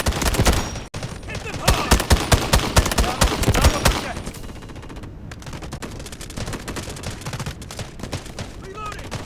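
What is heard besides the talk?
gunfire in the video game Delta Force Mobile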